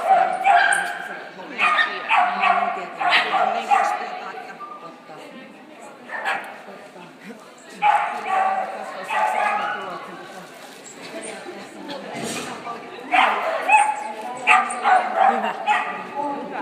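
A nervous dog gives repeated short barks and whimpers in bursts, fairly close by, with people talking at times between and over the sounds.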